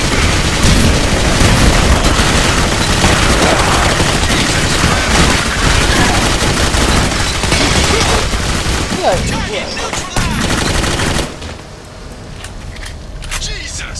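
Loud, continuous gunfire in the video game Clive Barker's Jericho, rapid overlapping shots and bursts for about eleven seconds, then dying down to sparse sounds, with voices shouting over it.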